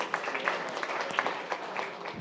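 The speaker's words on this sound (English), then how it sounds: "A round of applause for BIOWNLIGHT." A small audience claps briefly after a startup pitch at a pitch competition, with scattered, fairly quiet hand claps and only a few sharper individual claps standing out.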